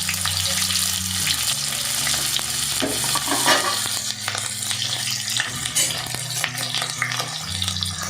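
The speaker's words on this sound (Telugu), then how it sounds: "సో ఆయిల్ అనేది వేడవుతుంది అండ్ ఇప్పుడు మనం దాంట్లో ఆనియన్స్ వేయాలి." Sliced onions sizzle in hot oil as a spoon stirs them during ridge gourd chutney preparation. A loud, continuous frying hiss carries scraping strokes against the pan and a low hum underneath.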